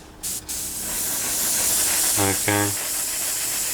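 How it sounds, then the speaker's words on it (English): Spray paint misted in a light first coat over a 1/48 Tamiya Supermarine Spitfire Mk.I scale model, a steady close hiss running throughout, with a brief spoken word and short humming tones near the end. "you can't go wrong with getting a first misty coat with any kind of spraying"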